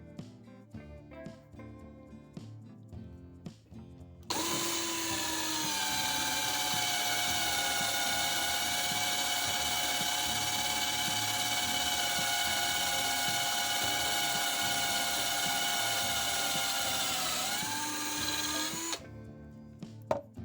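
A power drill with a step drill bit boring into wood whines at a steady high pitch for about fifteen seconds, starting abruptly and winding down at the end, with faint tapping before and after.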